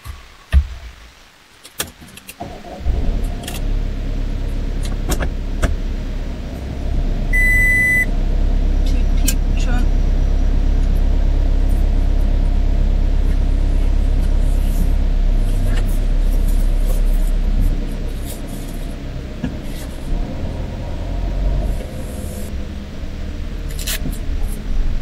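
A car starts up and pulls away at the start of a road trip toward Lapland, an engine hum building and holding steady with a beep and clicks early on, while people talk inside.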